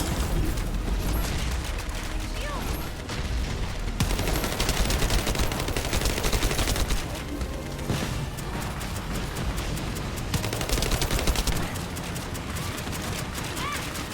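Shotgun fire in the video game The First Descendant, dense bursts of blasts layered with booming effects and game noise, loud and nearly continuous, with voices talking underneath.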